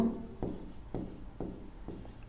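Chalk strokes on a classroom board during a chemistry lesson: four firm, evenly spaced scratches about half a second apart, close and clear with no talking.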